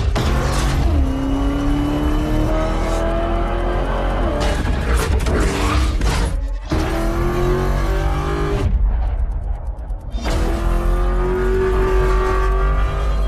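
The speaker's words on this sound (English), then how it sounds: "Even when the vociferous V8 gets involved, the two sounds merge to create a raucous sci-fi melody inside the cabin." A hybrid all-wheel-drive Corvette V8 heard from inside the cabin: a loud, raucous engine roar blends with a rising electric whine that climbs repeatedly through the gears, with brief dips between pulls.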